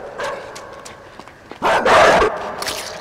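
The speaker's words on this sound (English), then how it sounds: "Oh god, the dog's here still." A dog in the video game Inside barks in a short yelping burst near the end, loud and close, preceded by faint scattered yips over a quiet background.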